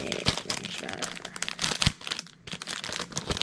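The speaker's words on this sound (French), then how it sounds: "je vais vous déballer ça" Plastic packaging of a Dollarama diamond painting kit crinkles and crumples continuously as it is unwrapped up close, with a few sharper tearing rustles and a brief pause near the end.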